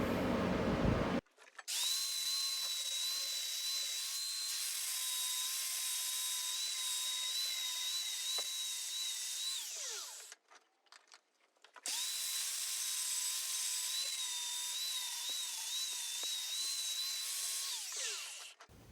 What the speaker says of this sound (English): Quick stop at the drill press, drill that copper out, and she's ready to go.